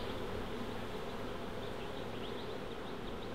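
Honey bees buzz in a dense continuous drone around an open hive being split, steady and close with no talk.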